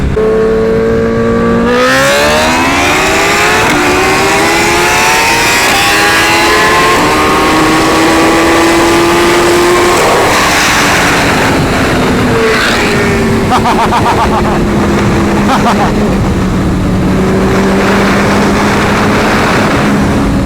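A BMW M1000RR and a full-carbon built-motor Suzuki Hayabusa race side by side, loud engines revving hard with rising gear-shift sweeps and a sustained high-speed roar throughout, some wind noise.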